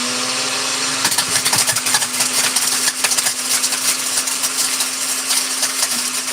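A blender runs loudly while chopping up an object, with a steady motor whine under irregular rattling and clattering as pieces are thrown around the jar. No one speaks.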